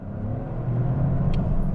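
Toyota GR Corolla hot hatch engine under full throttle, a loud, steady, close rumbling roar that holds without a break through the whole short burst.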